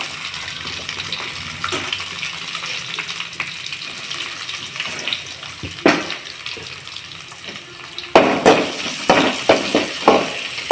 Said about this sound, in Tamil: வெங்காயம் ஓரளவு வதங்கட்டும்.